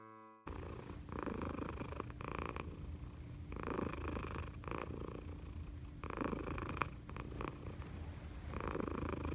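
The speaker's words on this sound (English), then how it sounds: "The loudest purr in creation." A cat purring close up, loud and rumbling, with a slow rhythmic rise and fall as each breath goes in and out.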